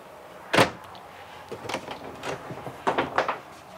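A sharp clack of a folding shower door in a 2018 Newmar Bay Star 3226 Class A motorhome being pushed open, followed by several lighter knocks and rattles as the panels fold, close and indoors.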